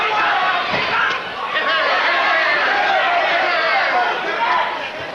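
Hostile arena crowd at a classic kickboxing fight backing Benny "The Jet" Urquidez against Japanese fighter Takahishi Tagami, a loud continuous roar of chatter and cheering with a commentator talking over it throughout.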